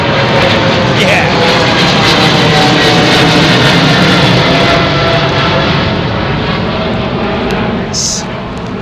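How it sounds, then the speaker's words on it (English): Loud, sustained roar of jet airliner engines close by at London Heathrow Airport under a low cloud base, a constant broad rumble and whine that fills the whole clip. "You can really hear those engines digesting all that air."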